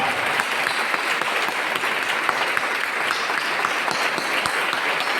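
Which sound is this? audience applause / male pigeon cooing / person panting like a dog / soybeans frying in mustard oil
audience applause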